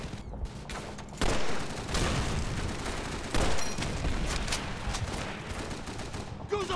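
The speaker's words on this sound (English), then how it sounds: "Guzzo's pinned down by that MG" Machine gun fire rattles in a Call of Duty 3 battle, with repeated bursts and loud gunfire cracks layered over a busy mix of battlefield noise.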